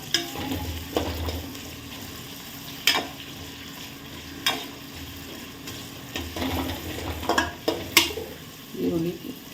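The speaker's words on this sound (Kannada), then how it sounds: "ಈರುಳ್ಳಿ ಸ್ವಲ್ಪ ಚೆನ್ನಾಗಿ ಎಣ್ಣೆಯಲ್ಲಿ ಫ್ರೈ ಆಗಬೇಕು." Onions fry in oil in a pan, giving a soft steady sizzle under occasional sharp scrapes and clinks of a spoon stirring against the metal, close and moderately quiet.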